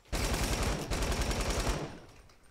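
Rapid gunfire from a shooter video game rings out in one loud, close burst of fast repeated shots lasting over a second, then trails off into a fading echo.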